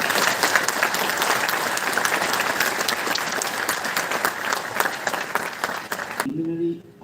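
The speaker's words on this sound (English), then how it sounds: "Can we start this with a one round of applause for Justice Kaul?" Lawyers at a Supreme Court Bar Association farewell for a retiring justice give a loud, sustained round of applause. It fills the hall evenly, then cuts off abruptly near the end, leaving a faint electronic tone.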